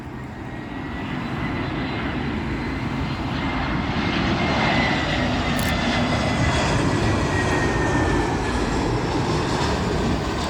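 An Aer Lingus Airbus A320 arriving at Heathrow from Dublin gives a loud, continuous jet engine roar that swells steadily for about ten seconds.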